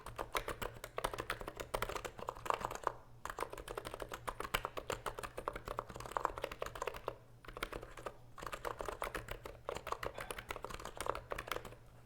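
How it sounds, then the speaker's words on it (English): Steady, rapid typing on a NiZ Atom 68 electro-capacitive keyboard with soft, muted clacks in a continuous flurry, broken by two brief pauses; no voices. "sound test of the NiZ Atom 68 Electro-Capacitive Keyboard"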